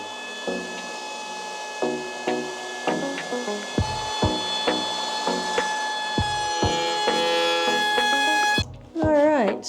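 A tool rounds over the edge of an RV countertop in a series of short rasping cuts and taps against a steady high whine, with a louder burst at the end.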